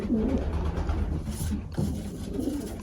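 Racing pigeons coo softly in a loft, a low throaty rolling call heard up close over a steady rustling background, with no one talking.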